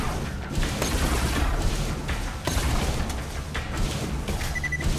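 Enemy gunfire in a video game, a dense sustained barrage of rapid shots and impacts hammering continuously at close range with no pauses.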